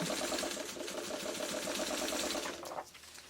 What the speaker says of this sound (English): Now I'm just going to sew that piece down